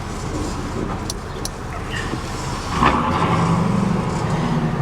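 A supercharged Jaguar XJR drives on the road, its engine a steady, moderately quiet hum with road noise that swells slightly louder partway through as it accelerates.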